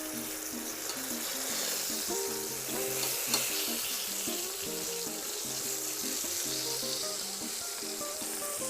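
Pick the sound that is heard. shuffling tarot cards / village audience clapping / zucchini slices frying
zucchini slices frying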